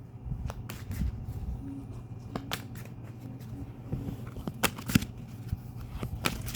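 Tarot cards are shuffled close by in a quiet room, a soft run of crisp riffles, flicks and taps with scattered sharp snaps and no talking.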